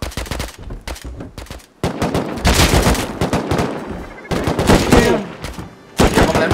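Gunfire in the survival video game Rust comes as loud, close bursts of rapid automatic shots separated by short gaps, with repeated volleys building over several seconds.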